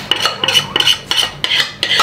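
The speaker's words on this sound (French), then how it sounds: "Je lâche la casserole" Metal cookware clatters on a stovetop while a dish is cooked at home, a series of sharp, close scraping and clanking hits in an irregular rhythm.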